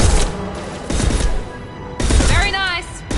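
Rapid gunfire bursts in the video game Mass Effect 2, two loud volleys separated by a brief lull, with voices talking over the second.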